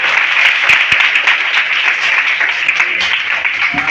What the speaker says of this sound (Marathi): सर्वांनी त्याचा टाळ्या वाजवून या ठिकाणी स्वागत करायचं